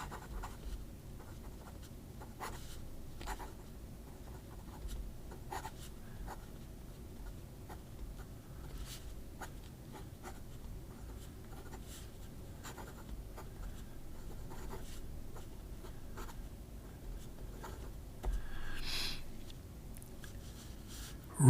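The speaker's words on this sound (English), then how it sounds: "some writing with this new Wing Sung number 8 sized extra fine nib" Wing Sung fountain pen with a number 8 sized extra fine nib writing on paper, producing faint, quiet scratching strokes in an irregular patter with short pauses, close up and alone.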